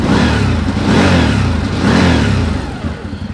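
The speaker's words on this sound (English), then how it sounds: "So let's rev the 800 for you guys so you can feel it," A 2024 CFMoto CForce 800 XC ATV engine revs nearby, the throttle blipped twice in rising, throaty surges before settling back toward a rough idle.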